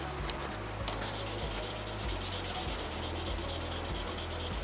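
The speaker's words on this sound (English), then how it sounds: "I've got to keep rubbing until I get rid of my primer." Primer being sanded off a run in the clearcoat of a muscle car respray, producing a steady, close, continuous abrasive rubbing with slow repeated back-and-forth strokes throughout.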